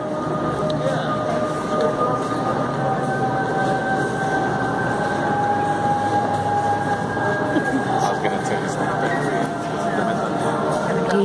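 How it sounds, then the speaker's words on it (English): A steady, loud rumble of a train running continuously, with a sustained tonal whine layered over the rolling noise throughout. "That's the train."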